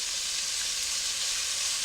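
Meat strips frying in hot oil in a pan give off a close, loud and steady sizzle, a continuous hiss with no talking.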